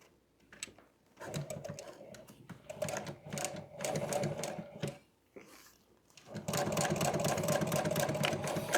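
A sewing machine stitches boat cushion fabric face to face in bursts of rapid mechanical chatter, pausing briefly between runs and ending in a longer, steady stretch of sewing, close and clear with no talk.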